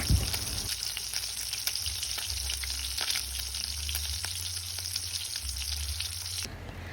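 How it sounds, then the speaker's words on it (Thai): Pork belly fries in hot oil with a dense, steady sizzle and scattered pops, loud and close, before a slight drop near the end. "ขณะที่ทอดนะคะอาจจะนำฝามาปิดไว้นะคะ เพื่อป้องกันน้ำมันกระเด็นค่ะ"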